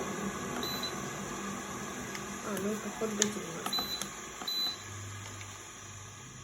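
Control buttons on a Kitfort KT 601 electric kettle give short electronic beeps as temperature settings are chosen, brief tones scattered over a steady hum, while a person talks close by.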